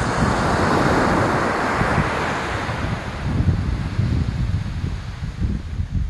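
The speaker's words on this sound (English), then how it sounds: "today I'm at the Shawshank Beach." Surf rolling onto Sandy Point beach with steady wind buffeting the microphone, a loud, continuous wash of breaking waves and roaring gusts with no voices.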